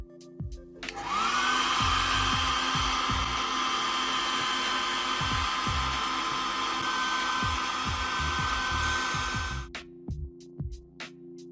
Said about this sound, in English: gently heat it with a hairdryer to safely detach it